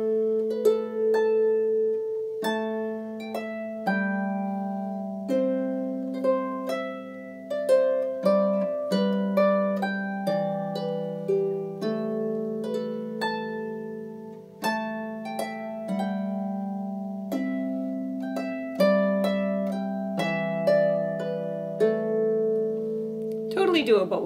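A harp plays the Scottish march "Drummond Castle" with single notes in the left hand under a plucked melody, a steady stream of bright, ringing notes, close and clear with no voices.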